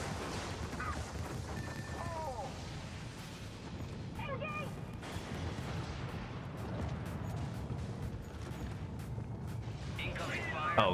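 Helldivers battle gunfire and heavy booms rumble in a dense, continuous barrage, with sharp bursts and crashes scattered over a loud low roar, and a voice talks through part of it.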